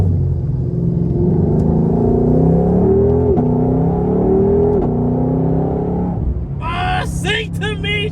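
A 2021 Shelby GT500 engine drones loudly and steadily, its pitch rising and falling as it revs, before a voice breaks in near the end.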